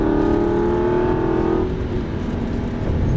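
An Aston Martin V8 Vantage engine roars loudly at high revs, its tone climbing as it accelerates, then easing into a steady rumble.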